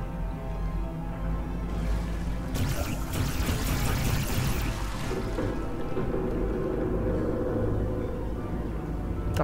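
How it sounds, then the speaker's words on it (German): Water splashes and trickles in a Portal 2 test area, a continuous close wash of liquid noise with a brief louder burst in the middle, over a steady low ambient drone and without talk. "Da plätschert es irgendwie, das gefällt mir nicht."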